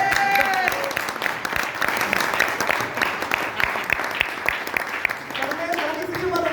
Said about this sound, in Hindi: ब्रजेश जी की मुस्कुराहट के लिए एक जोरदार ताली।